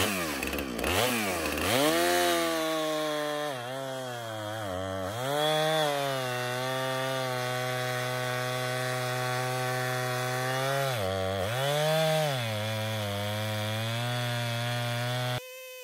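Chainsaw with a dull chain cutting through a solid hickory log: a loud, close engine drone runs almost continuously, its pitch dipping and climbing as the revs sag under load and recover, with no talking.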